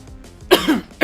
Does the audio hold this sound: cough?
yes